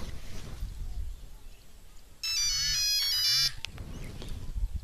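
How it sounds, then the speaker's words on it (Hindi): A phone ringtone sounds while a call is placed, a bright electronic ring lasting about a second and a half, loud and close, between stretches of outdoor wind-like rumble. "एगो काम करा, जल्दी से VRP भैया के फोन लगावा"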